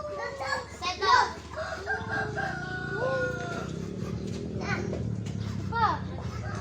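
Several chickens cluck and a rooster crows nearby in Baras, Rizal, while children chatter and play in the background.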